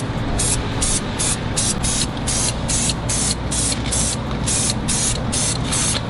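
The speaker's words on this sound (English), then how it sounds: "let's just spray these two colors" Two colors of spray paint hiss out in repeated short bursts over water for hydro dipping, a steady rhythmic pattern of close, loud sprays with brief gaps between them.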